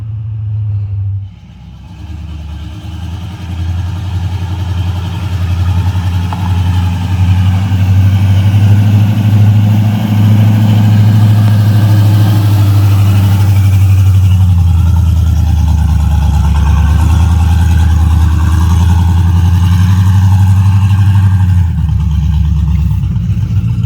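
A Camaro engine idles steadily with a deep, even rumble, holding nearly constant for about twenty seconds before settling slightly near the end.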